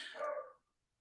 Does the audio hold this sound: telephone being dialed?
no